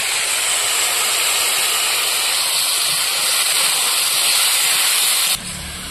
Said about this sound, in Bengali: আলুটা শুধু আমি লবণ দিয়ে ভালো করে ভেজে নেব।